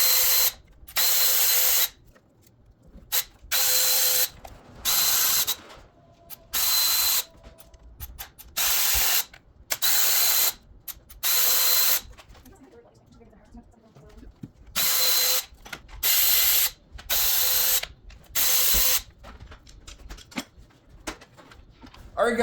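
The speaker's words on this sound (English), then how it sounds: "We're gonna yank this valve cover off" Ratchet-style power tool removing the valve cover from a Jeep 4.7L V8 engine: repeated loud bursts of high-speed ratcheting whir, each a second or two long, separated by short pauses with quieter handling noises.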